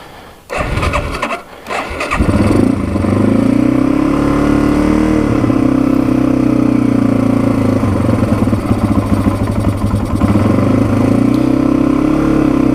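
A 1987 Yamaha TW200 dual-sport motorcycle starts after a couple of cranks, then idles steadily and loudly while warming up with the carburetor not yet adjusted and the muffler fitted.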